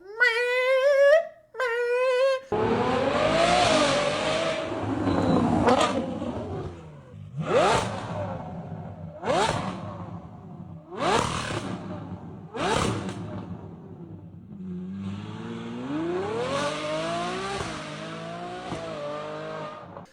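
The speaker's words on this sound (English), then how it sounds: "The LaFerrari, the 812 Superfast, one of my dream cars, screaming V12" Ferrari 812 Superfast V12 engine revving, with high screaming blips at the start followed by a series of sharp throttle bursts and rising pulls, loud and close, along with some tire squeal and whooshing.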